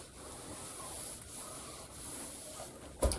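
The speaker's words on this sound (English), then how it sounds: "I'll just give these a good press and get all of the wrinkles and crinkles out" An iron pressed over quilting fabric pieces to smooth out wrinkles, giving soft steady rubbing and gliding strokes at close range, quiet and unaccompanied by talk, with a short sharp knock right at the end.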